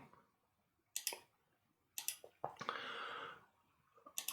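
Sharp, quiet computer mouse clicks come in small separate clusters, close and dry, with a short scraping rustle between them in an otherwise quiet room.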